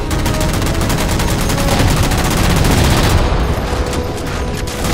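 Sustained rapid gunfire in the Halo 4 campaign as jammers are shot down, a loud dense stream of shots running almost without a break, with a faint voice under it.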